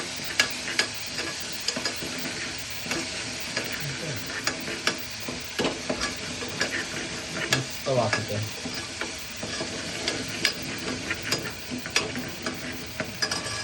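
Onions sauté in a pan for Malvani-style misal, with a steady close sizzle punctuated by frequent sharp spatula taps and scrapes and no speech.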